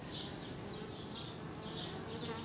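Honey bees buzz steadily around a queen cage set on a nuc box, a dense, continuous hum with pulsing swells, close and alone with no talk.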